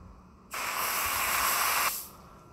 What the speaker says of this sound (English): It still sprays water very well.